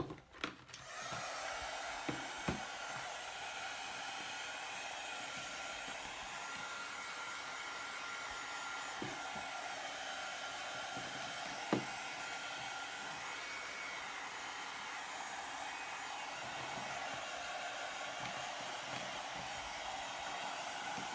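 A hair dryer blows steadily to dry freshly applied paint, a continuous close whoosh lasting throughout, broken only by a few faint knocks, with no talking.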